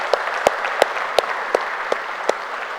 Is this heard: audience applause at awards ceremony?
yes